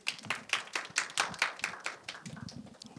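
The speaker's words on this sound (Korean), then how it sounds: "박수로 환영해 주십시오." A small audience at a Korean disability health policy forum claps to welcome a discussion moderator, producing distinct, fairly sparse hand claps in an uneven rhythm that stay close and moderately loud before tapering.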